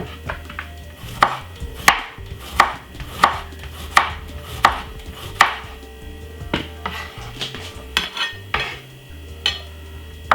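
Knife on a cutting board slicing cucumber for a couscous salad, a series of crisp, evenly spaced chops close by, slowing and softening toward the end, with faint kitchen clatter.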